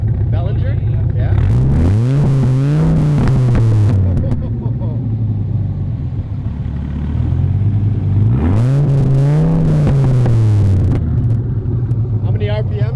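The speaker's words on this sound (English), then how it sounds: "How many RPMs can you get up to?" Dodge Viper with a Belanger exhaust revved twice up close, each deep burbling idle sweeping up into a loud rising roar and falling back, with people talking over it.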